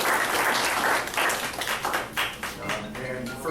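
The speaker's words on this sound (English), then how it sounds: "A round of applause for Teresa Moffitt" Audience applause at a county Democratic Party meeting, a steady burst of clapping from a room of people that fades slightly toward the end, with a voice talking over it.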